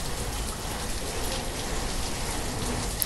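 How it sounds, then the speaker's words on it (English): Rain in the city-building video game Banished, a steady dense patter of falling rain that stays even and close for the whole stretch, with no voices. "It's raining. Why is it raining?"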